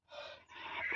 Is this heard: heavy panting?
yes